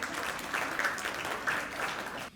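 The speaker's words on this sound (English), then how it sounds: "Please give them the big round of applause" Audience at an interfaith iftar event in Brooklyn giving a round of applause, steady clapping from a crowd with a few brief, brighter swells and a faint voice underneath.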